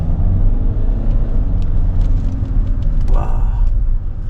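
Kia Carnival diesel engine idling and revving during an indoor test drive, a loud, steady low rumble filling the space with a brief rise partway through, no talk over it.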